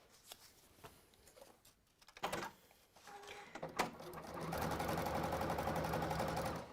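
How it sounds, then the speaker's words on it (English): A sewing machine top stitches along a fabric pocket, starting with a few handling clicks and knocks, then settling into a steady, close, rapid mechanical whirr for the last few seconds. "I'm going to top stitch again along there, as I've done with everything else."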